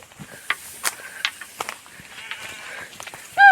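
A flock of sheep taken out to graze after rain bleats in a few scattered calls, one loud bleat close by at the end, among rustling field noise.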